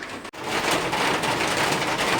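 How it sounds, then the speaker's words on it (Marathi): Heavy rain pours steadily outdoors on a wet day, a dense continuous hiss that stays loud throughout, broken only by a brief dip near the start. "जास्तच पाऊस पण आहे आज भरपूर"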